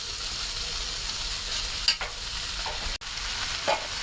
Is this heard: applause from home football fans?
no